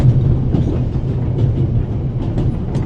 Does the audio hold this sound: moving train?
yes